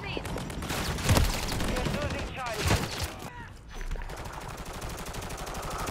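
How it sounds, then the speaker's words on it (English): Dense automatic gunfire rattles continuously through a video game Juggernaut battle, loud and sustained with heavier bursts, while players talk excitedly over it. "Stop shooting at him."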